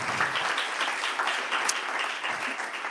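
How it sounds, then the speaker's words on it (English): Sustained applause for speakers at a World Health Assembly side event, many hands clapping densely and evenly for the whole stretch. "giving a round of applause for our speakers"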